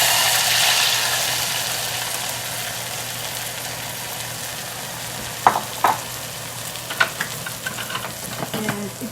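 Barberries sizzle in hot butter for Persian zereshk polo, a steady close frying hiss broken by several sharp clicks and scrapes of a utensil stirring in the pan.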